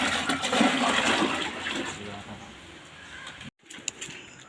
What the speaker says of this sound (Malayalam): അപ്പോൾ നമ്മളെന്തായാലും ഇപ്പോൾ വെള്ളം കോരി മാറ്റുകയാണ്.